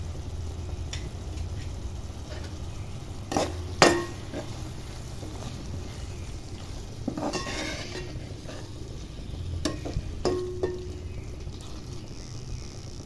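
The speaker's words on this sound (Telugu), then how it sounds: "ఇప్పుడు ఇందులోకి మనం కట్ చేసి పెట్టుకున్న టమాటో పీసెస్ వేస్తున్నాము" Tomato pieces and chili powder go into a pan for bendakaya pulusu, a quiet steady sizzle with a few sharp clinks and scraping stirs of a utensil against the pan.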